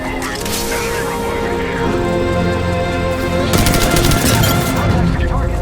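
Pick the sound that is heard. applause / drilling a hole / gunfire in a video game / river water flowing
gunfire in a video game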